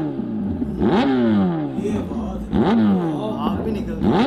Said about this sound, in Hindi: ये आ गई 10RR। एक बार आवाज़ सुनी लो